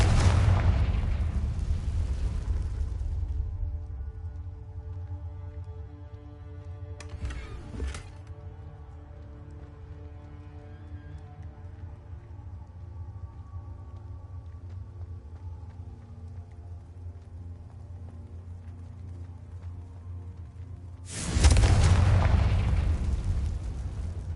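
Fiery Confringo spell blasts in the game Hogwarts Legacy: a loud booming explosion opens, a sharp crackle bursts midway, and another heavy blast hits near the end, with a soft sustained musical drone between them.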